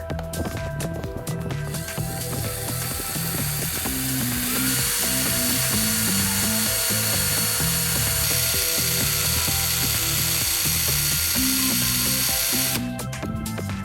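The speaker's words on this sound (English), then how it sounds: "attach the carbon rod to a drill" A power drill spinning a carbon rod against sandpaper whirs continuously with a rhythmic grinding, scraping texture, repeating pulses throughout, loud and close with no talking.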